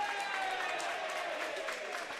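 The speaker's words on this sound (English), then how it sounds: "The crowd goes wild." A crowd cheers and applauds at a boys high school basketball game, a steady dense roar of voices and clapping that fills the whole short stretch at a moderate level.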